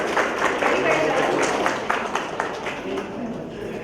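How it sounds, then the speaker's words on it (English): An audience claps together at a preschool annual day function, a steady, moderately loud patter of many hands that fades slightly toward the end, with voices mixed in. "Can you please clap for all the couples?"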